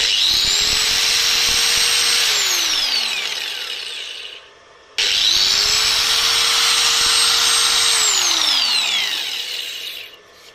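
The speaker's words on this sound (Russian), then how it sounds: "Я сейчас вот возьму болгарку и запущу ее." An 860-watt angle grinder powered by a solar station spins up to a high whine, runs steadily, then winds down; it starts again and repeats the same run-up, steady grind and spin-down.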